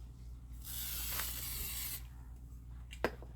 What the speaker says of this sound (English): So I'm just spraying them just like that in the tent.